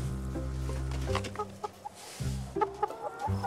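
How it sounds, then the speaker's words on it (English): A flock of organic chickens on a farm clucks in short, scattered bursts, near and moderately loud, over a steady low droning hum that drops out briefly in the middle. "Cedric Bell raises a flock of organic chickens"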